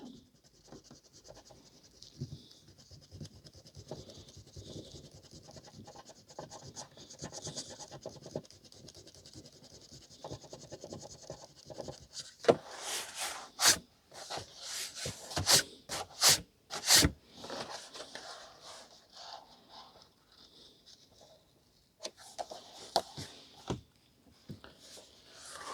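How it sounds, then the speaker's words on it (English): Soft scratching and rubbing as a cloth polishes a vintage Penguin paperback book, faint and close, with a louder burst of brisk rapid strokes midway. "I think this one's going to need a polish as well"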